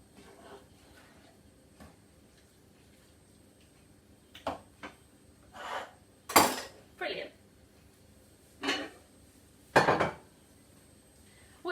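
Hot sweet potato and black bean shepherd's pie filling is moved from a frying pan into an oven-proof dish, with sparse scrapes and metallic clinks of utensil on cookware against a quiet background.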